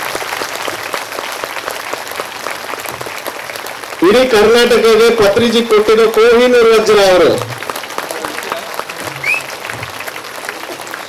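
A crowd at a women's spiritual gathering in Ballari claps loudly and steadily throughout, while someone speaks over it through a microphone.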